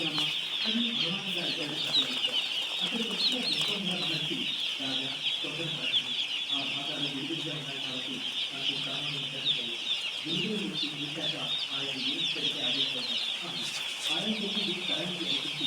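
A flock of chickens and chicks clucking continuously in soft overlapping bursts, with a high insect-like hum running steadily underneath.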